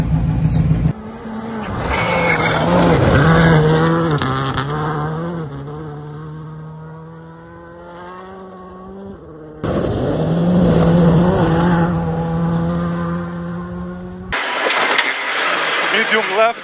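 A rally car engine starts and revs hard, then roars loudly as it accelerates and the tires skid. A short cut breaks the run, the engine surges again, and someone talks over it.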